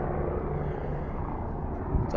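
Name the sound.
helicopter flying overhead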